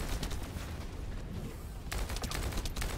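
Rapid automatic turret fire from The First Descendant during a boss fight against Pyromaniac, a dense continuous fusillade of shots at moderate level that briefly thins before resuming.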